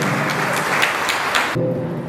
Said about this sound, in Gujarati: તો ફરી એક વખત જોરદાર તાળીઓ પડવી જોઈએ બંને માટે.